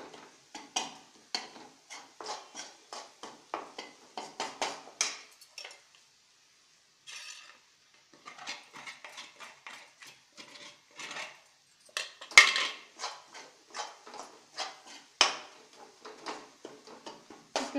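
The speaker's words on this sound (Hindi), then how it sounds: "जल्दी जल्दी फास्ट चलाना है ताकि जो हमारा हलवा जले नहीं" Rapid metal spoon scraping and clinking against a pan while toast halwa is stirred quickly off the heat, a steady run of close, sharp scrapes with a brief pause midway.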